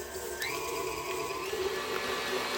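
A stand mixer fitted with a whisk attachment beats cream cheese and sugar on high speed for a cheesecake, giving a steady motor whine with a rising pitch early on, continuous and close, with no talk.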